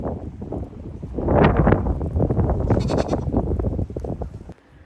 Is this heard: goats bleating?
yes